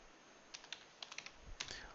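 Soft clicks of a computer keyboard, with a few scattered key presses including the tab key, quiet and close against a low background hiss.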